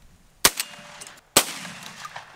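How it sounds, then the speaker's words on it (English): Two loud, sharp 12 gauge shotgun blasts at clay targets outdoors on Lake Okeechobee, about a second apart, each followed by a short decaying echo. "Good shot, Jake."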